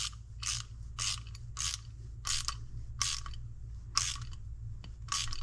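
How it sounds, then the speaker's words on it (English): A hand ratchet with a 1/2 inch socket tightens a bolt on an Oliver 60 tractor carburetor, giving a steady series of about ten sharp clicking bursts at close range over a low constant hum, with no talking. "It's going to take a 1/2 inch socket."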